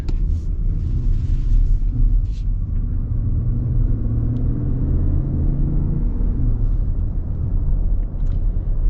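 A low, steady engine rumble piped into the cabin of a 2025 Lexus RX 500h hybrid, a smooth droning hum that stays even and moderately loud throughout.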